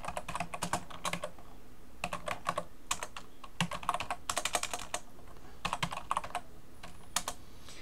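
Tags being typed on a computer keyboard: quiet, close clusters of rapid key clicks in bursts separated by short pauses, with no talking.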